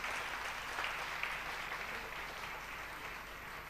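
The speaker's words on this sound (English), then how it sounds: "Can we have a round of applause, please?" Steady applause from a crowd at a graduation convocation ceremony, dense and continuous clapping holding at an even level throughout, with no voices over it.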